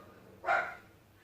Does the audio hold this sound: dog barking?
yes